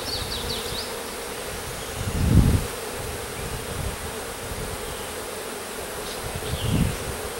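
A steady drone of bees around a hive fills the air, with a louder buzz passing close by a couple of times against a constant outdoor hum.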